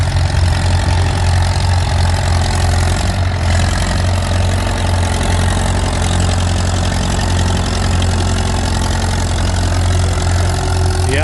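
Antique tractor pulling a three-bottom plow, fitted with front wheel weights, hydraulic lift and an aftermarket three-point hitch: a steady, loud, close diesel-like engine drone with deep low rumble, continuous throughout.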